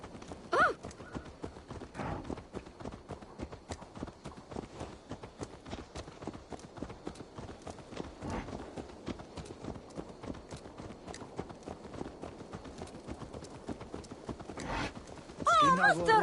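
A horse's hooves clip-clop in a steady walking rhythm on hard ground in Assassin's Creed Valhalla, close and moderately loud. A whinny is heard near the start, another near the end, and voices talk throughout.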